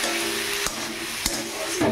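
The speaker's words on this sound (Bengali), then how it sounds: "এটাকে ভালো করে একটু হালকা ভাজা ভাজা করে নিই।" Onion and green chili frying in a pan with a steady broadband sizzle, a constant low hum underneath and a few brief stirring clatters.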